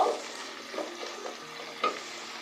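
Large pieces of green capsicum stir-fried in a hot pan, a soft close sizzle broken by a few scraping stirs over about two seconds.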